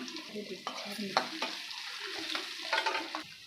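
Garlic, green chili, curry leaves and asafoetida sauté in a pan for sprouted horse gram dal, with a steady sizzle under repeated scraping stir strokes, close and alone.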